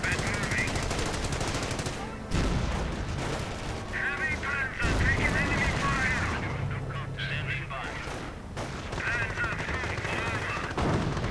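In a multiplayer World War II strategy game, an anti-tank gun fires amid dense machine-gun fire and explosions. The battle sounds run continuously under a commentator's voice.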